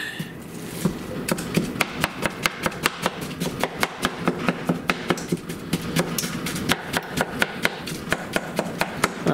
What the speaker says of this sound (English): I'm going to go ahead and chop it up a little bit